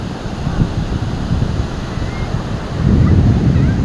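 Sea waves wash onto Kunkeshwar beach in Devgad, a rough rolling surge with wind buffeting the microphone and a heavier swell near the end.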